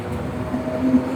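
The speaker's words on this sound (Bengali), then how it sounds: "তা দেখতে দেখতে ট্রেন চলে আসলো" The Drutojan Express train to Dhaka Kamalapur arrives at a station platform, its loud steady rumble filling the moment with a faint tonal squeal of wheels riding over it.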